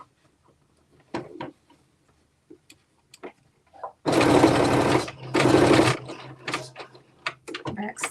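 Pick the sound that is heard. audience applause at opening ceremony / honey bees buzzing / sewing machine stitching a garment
sewing machine stitching a garment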